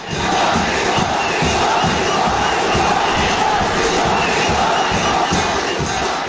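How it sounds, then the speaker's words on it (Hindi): A large crowd roars and chants "Modi, Modi" together continuously, loud and dense throughout, with rhythmic collective shouting and no single voice standing out. "मोदी मोदी के नारों की आवाज"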